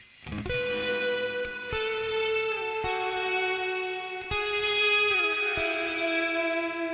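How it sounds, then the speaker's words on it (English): Electric guitar through a Joyo Atmosphere reverb pedal in rewind mode, a reverse reverb that swells in with a faded-in attack over a dirty tone, sustained chords ringing out steadily with no talking. "Then I have rewind, which is a reverse reverb."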